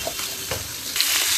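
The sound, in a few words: poli fish frying in a pan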